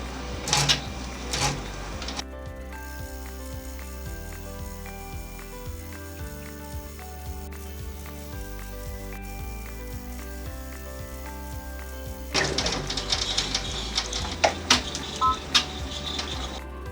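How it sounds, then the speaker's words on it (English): Embroidery machine doing decorative stitching on a Halloween treat bag, a steady mechanical whir with tonal motor whine, broken at start and end by busier rapid needle clatter. "we're going to do the decorative stitching around the center portion"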